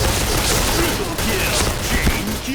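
Gold M4A1 assault rifle firing in the online shooter Point Blank, dense rapid bursts of game gunfire running throughout, loud and close, with someone talking over them.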